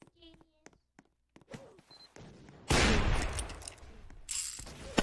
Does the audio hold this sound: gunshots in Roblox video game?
yes